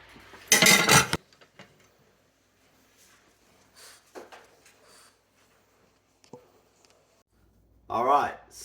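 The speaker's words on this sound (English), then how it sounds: "I'm going to plate up a bowl and give it a taste." A burst of clattering dishes and cutlery while zucchini pasta is plated into a bowl, followed by quieter scattered clinks, taps and soft handling noises, with a brief voiced sound near the end.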